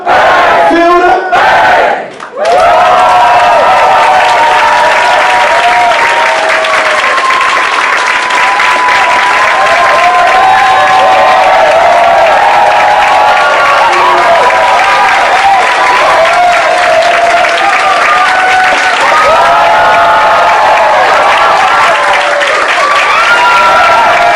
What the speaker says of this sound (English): I don't want to thank you for the applause.